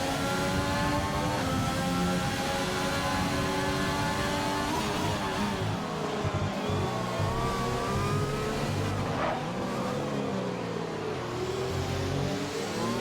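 A Red Bull race car engine in a racing game on a damp track, a steady, loud, high-pitched whine that holds throughout, with slight rises and dips in pitch as the car works through corners.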